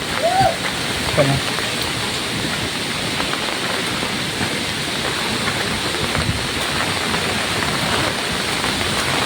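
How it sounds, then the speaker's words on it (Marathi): Heavy monsoon rain pours down in a village beside an open well, making a dense, steady roar that fills the whole stretch at close range with no let-up. "कारण पाऊस खूप आहे."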